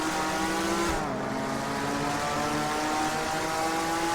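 Steady, loud engine drone of a GT-class race car in Total Immersion Racing at Sebring Raceway, a sustained roar with shifting pitch as it accelerates through gears, filling the whole stretch without pause.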